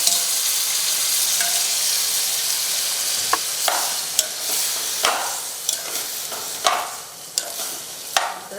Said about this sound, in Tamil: போட்டு வேக வச்ச சிக்கனை இப்போ நான் இதோட சேர்த்துறேன்